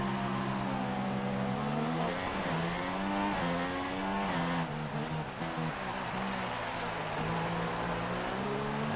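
Formula 1 cars race past in the F1 2016 video game, with tyres heavily blistered and on softs. Several whining engine tones climb and fall as the cars pass close and loud, over a constant roar.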